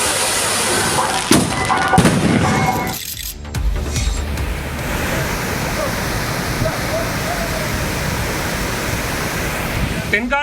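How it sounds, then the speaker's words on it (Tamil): Water roaring down the main falls at Courtallam in Tenkasi district, swollen by continuous rain in the Western Ghats, forming a loud, steady broadband rush after a brief burst of louder noise early on. "மேற்கு தொடர்ச்சி மலைப்பகுதிகளில் பெய்து வரும் தொடர் மழையால் குற்றால பிரதான அருவியில் தண்ணீர் ஆர்ப்பரித்து கொட்டியது."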